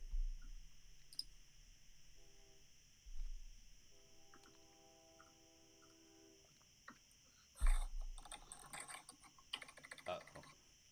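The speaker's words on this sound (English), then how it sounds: "Uh oh, keys are getting pressed." Computer keyboard keys are pressed in scattered clicks and short runs of typing, fairly faint against a quiet background with a steady hum.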